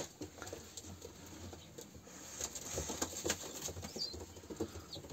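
Tumbler pigeons flap their wings in flight, a faint, irregular patter of soft wingbeats with light fluttering bursts and some outdoor background noise.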